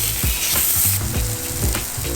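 Sausage sizzles and crackles in a frying pan, a close, continuous spitting fry with small irregular pops and scraping stirs.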